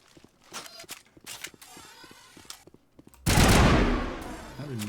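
Gunfire in the video game Mass Effect: a run of sharp, scattered shots and footstep-like taps, then a sudden loud, sustained burst of heavy automatic fire that keeps going to the end.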